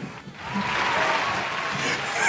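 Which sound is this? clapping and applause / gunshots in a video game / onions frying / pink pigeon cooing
clapping and applause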